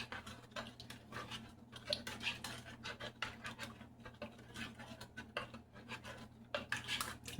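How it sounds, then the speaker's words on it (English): A spoon stirs jello mix in a bowl of water in a home kitchen, scraping and clinking in quick, uneven strokes, close and fairly quiet with no talk. "you want to stir it until it's kind of clear"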